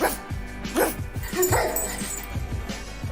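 Woman imitating a barking dog, loud close yips and barks in a quick irregular series over about three seconds.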